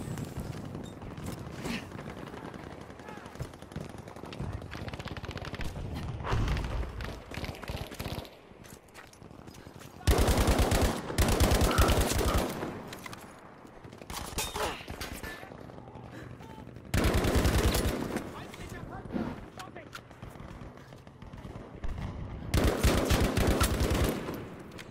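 Bursts of automatic and single gunfire in a Battlefield V match, loud rapid volleys in several clusters separated by quieter stretches with footsteps, and occasional talk over it.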